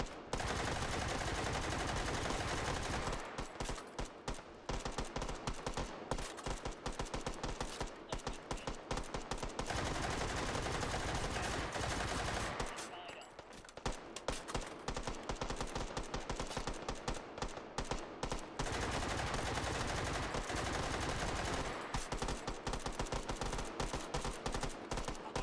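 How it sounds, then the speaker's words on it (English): Weapons firing in the VR shooter Hot Dogs, Horseshoes & Hand Grenades, loud close bursts of rapid gunfire and crackling shots filling most of the stretch, with a brief lull in the middle before heavy firing resumes. "Oh no, I'm getting shot."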